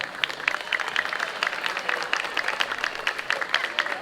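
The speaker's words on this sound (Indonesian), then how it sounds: "Tetapi boleh tepuk tangan." Audience at a junior high school event in Banda Aceh bursts into lively applause, many hands clapping densely and continuously for several seconds.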